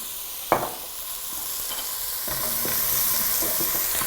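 Avocado oil sizzling and spattering in a pan while cooking carrot ginger soup, opening with a sharp pop, then a steady bright hiss that swells slightly, with small crackles throughout, close and alone.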